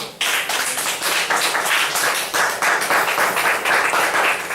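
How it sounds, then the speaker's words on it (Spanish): A church congregation breaks into sustained applause after worship, dense, steady clapping filling the space from start to finish, close and loud with no talk over it. "Den un aplauso al Señor."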